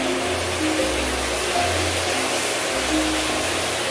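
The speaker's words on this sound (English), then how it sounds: "She in the shower" Steady broadband rush of a shower running in another room of a house, a constant muffled hiss of falling water heard alone at moderate level without pause.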